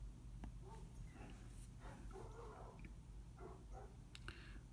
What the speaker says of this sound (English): You could probably hear dogs in the background.